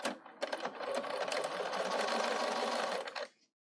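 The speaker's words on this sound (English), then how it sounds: "I'm going to be following right on top of the previous edge stitching" A Bernina 770 sewing machine edge stitches fabric in a steady, close whir of rapid needle strokes that starts in short bursts, runs evenly, then stops, leaving silence.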